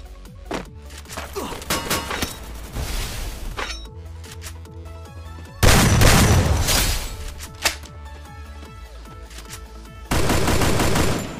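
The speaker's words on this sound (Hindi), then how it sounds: "तभी राइट साइड से मेरे ऊपर फायर आता है।" Gunfire in a battle royale video game crackles in repeated rapid automatic bursts and single cracks, sometimes close and loud, sometimes more distant, in a busy firefight with almost no talking.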